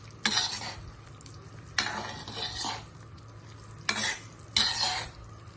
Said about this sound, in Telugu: ఇంకా కొంచెం చిన్న చిన్న పీసెస్ ఉన్నాయి, ఇంకొంచెం సేపు కరగనిద్దాము.